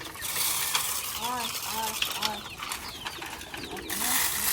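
Pigeons being fed by a grandmother in a village yard give a series of soft, repeated coos over a steady background hiss.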